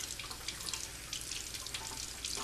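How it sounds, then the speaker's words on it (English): A drinking glass is rinsed under a running tap of warm soapy water, a steady splashing flow with small irregular drips and spatters, close and alone. "Then make sure to wash the glass with warm soapy water"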